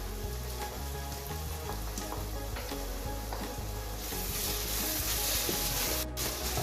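Carrots sizzle in hot oil in a cooking pot as a dense, steady frying crackle, close and fairly loud, with occasional stirring and no talk.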